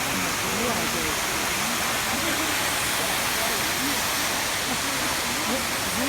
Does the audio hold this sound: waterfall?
yes